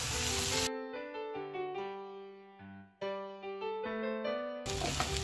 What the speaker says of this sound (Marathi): हे बघा, वांगी घालते मी आता आणि आता हे सर्व व्यवस्थित मिक्स करायचंय।